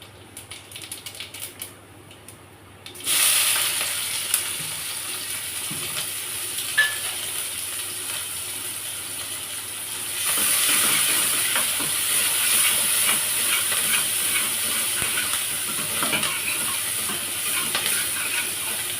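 Pakoras frying in a pan give off a steady, loud hiss and crackle that starts abruptly and swells louder partway through, with no talking over it.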